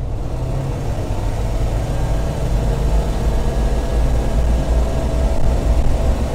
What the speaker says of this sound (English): I'll go ahead and give it full throttle here in a second so you can see it.